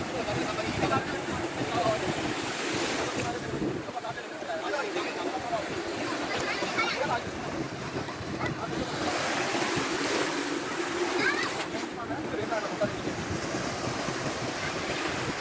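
Sea surf at Hawksbay beach in Karachi, a continuous wash of breaking waves with wind buffeting the microphone, steady and fairly loud throughout while a voice talks over it.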